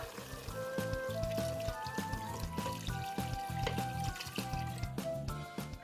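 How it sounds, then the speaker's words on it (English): Water is poured into a pot of assorted meat cooking for Nigerian pepper soup, a steady splashing pour that runs through the whole stretch with a fairly loud, continuous liquid rush. "So now I will add water."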